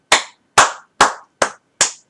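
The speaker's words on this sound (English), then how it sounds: "So when we clap hands, generally we do" Five sharp hand claps, evenly spaced about half a second apart, each crisp and close with a quick decay into silence.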